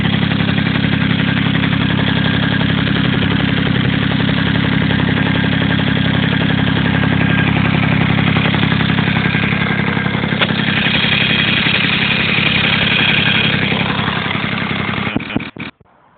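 A Honda NC50 Express moped with a new muffler idles close by. It gives a steady, buzzy two-stroke putter that stays even for about fifteen seconds, then cuts out with a few sputters at the end.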